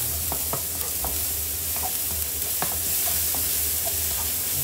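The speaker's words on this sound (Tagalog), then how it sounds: "ilalagay na po natin muna yung pork para maluto siya." Pork and melted tomatoes sautéing in a pan for pansit Bikol, a steady close sizzle with scattered utensil scrapes and taps throughout, no voices.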